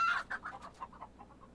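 Chicken clucks in the farm video game Farm Manager World, a short run of quick clucks fading away after a louder first call, heard alone.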